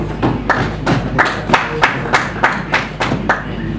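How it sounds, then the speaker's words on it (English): An audience claps in a regular rhythmic beat, about nine or ten distinct, evenly spaced claps in unison, loud and close with a slight room echo and no talking. "Clap for yourself."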